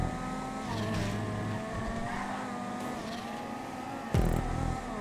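A sports car engine in GTA 5 racing drones at high revs, loud and steady, with pitch sweeping as it shifts, plus a sharp impact thump near the end.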